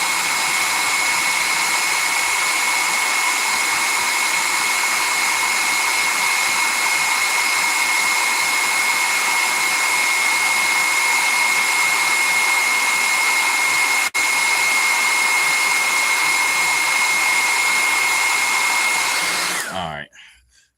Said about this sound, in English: Heat the inside of this leg up.